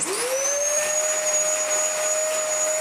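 A Dyson DC33 upright vacuum cleaner in dirty condition switches on, its motor whine rising quickly in pitch and then holding a loud, steady tone with rushing airflow, close and alone.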